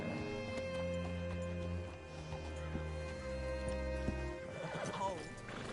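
A horse in the video game Red Dead Redemption 2 whinnies and snorts amid hoof clops, with sustained low tones beneath and a sharp neigh near the end.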